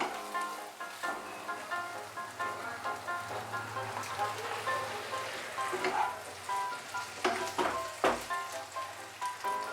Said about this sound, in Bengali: এখন এর মধ্যে আমি সামান্য একটু জল দেব।